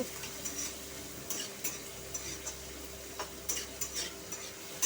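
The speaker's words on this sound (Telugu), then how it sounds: "చూసారు కదా, వేగుతుంది." Paneer pieces fry in a pan for a ridge gourd paneer curry, a faint steady sizzle punctuated by light irregular ticks and spatula taps, quiet and close, no one speaking.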